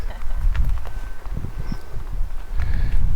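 Horses walking along a rural road, their hooves clip-clopping on the surface in a steady irregular patter that stays fairly close and clear for a few seconds, with no talking.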